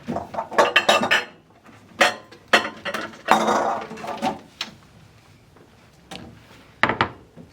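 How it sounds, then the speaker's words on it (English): Ceramic dishes and cutlery clatter and clink in a kitchen as a bowl is pulled from a stack, several sharp knocks in quick bursts with a longer scraping rattle, then a last clink after a pause. "Let me grab a bowl real quick here."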